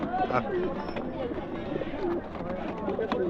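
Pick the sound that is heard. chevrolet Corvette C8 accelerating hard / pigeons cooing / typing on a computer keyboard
pigeons cooing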